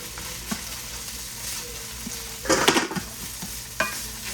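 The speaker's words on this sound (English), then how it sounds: "So we're just gonna start adding eggs in." Eggs poured into a hot pan for chicken fried rice, loud sizzling bursts and stirring scrapes near the mic, with a dense crackle around the middle.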